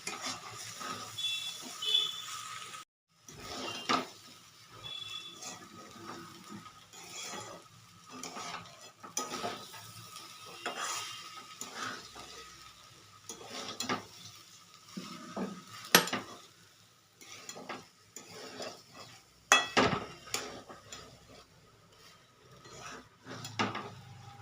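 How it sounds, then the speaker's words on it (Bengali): Raw rice being fried and stirred in a pan for a paneer pulao, with repeated scraping and clinking of the spoon against the pan at a steady, irregular rhythm over a faint sizzle, close and moderately loud with no talk. "দিয়ে এবার আমি খুব ভালো করে চালটা ভেজে নেব"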